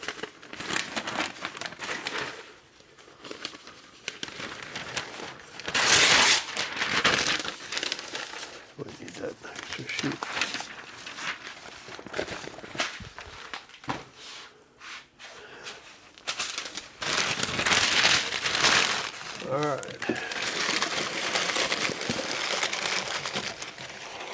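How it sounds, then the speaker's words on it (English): Packing paper crumpled by hand while preparing a box for shipping, bursts of crisp crinkling and rustling that come and go over about twenty seconds, close up, with a person talking in between. "got some packing paper"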